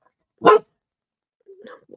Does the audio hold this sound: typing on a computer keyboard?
no